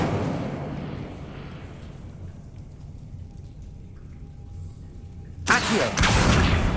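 An Incendio fire spell cast in Hogwarts Legacy: a low rumbling background settles quiet, then a sudden loud, broad whooshing burst of flame erupts near the end and keeps roaring.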